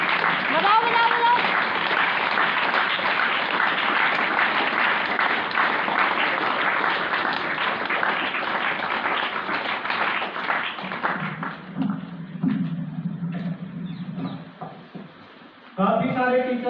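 Sustained clapping from a school audience at a Teacher's Day gathering. It stays dense and loud for about eleven seconds, then thins out and fades under murmuring voices and some clattering.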